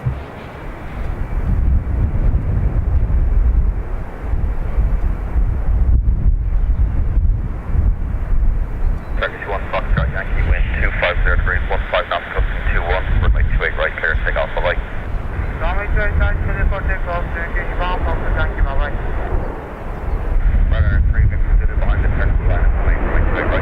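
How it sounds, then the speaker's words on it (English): An Airbus A321neo takes off at Dublin Airport, a broad distant roar under heavy wind buffeting on the microphone, with a person talking over it for much of the time. "TK 1976,"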